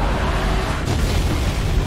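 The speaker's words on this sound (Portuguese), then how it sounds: "Quase que eu morri na explosão." An explosion in the video game Halo 3, a loud, rumbling blast with a heavy low-end roar that fills the whole moment without any talk.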